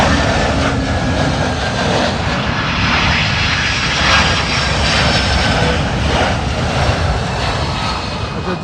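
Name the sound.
jet airliner on Heathrow southern runway 27L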